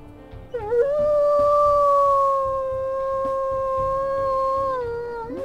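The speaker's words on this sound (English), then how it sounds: "let's listen to her howls as well." A single long wolf howl in the video game WolfQuest rises with a brief wavering start, then holds a steady tone for several seconds, loud and close.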